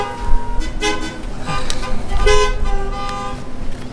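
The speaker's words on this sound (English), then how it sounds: "Yes, thanks for honking." Car horns honk repeatedly outside a church service on the Fourth of July, several short toots and longer blasts overlapping loudly amid passing traffic, with someone talking between them.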